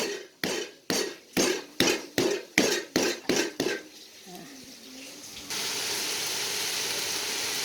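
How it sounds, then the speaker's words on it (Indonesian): Galangal being smashed flat for a stir-fried long bean dish, with about ten loud, evenly spaced pounding thuds, followed by a steady hiss of running water or frying. "iki laosnya digeprek ae"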